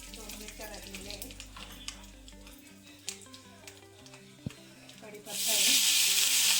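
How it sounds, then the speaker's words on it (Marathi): Cumin and mustard seeds crackling in hot tempering oil, sizzling under background music, then a loud burst of hissing as more goes into the pan. "जिरं मोहरी कडकडून झालेली आहे, हिंग टाकते मी"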